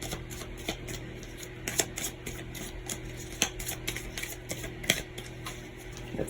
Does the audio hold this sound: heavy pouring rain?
no